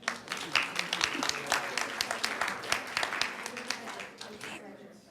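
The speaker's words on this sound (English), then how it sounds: "Let's give them a round of applause" Board meeting attendees give a round of applause for presenters from the Municipal Water Department, a room of hands clapping in a brisk, fairly even patter that fades out near the end.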